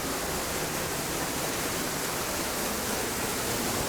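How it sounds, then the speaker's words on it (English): An indoor waterfall at the Dallas World Aquarium roars as a steady, dense wash of falling water, loud and close, filling the whole stretch without a break. "hopefully you can hear me over this waterfall here."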